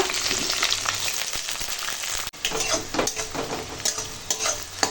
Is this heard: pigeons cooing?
no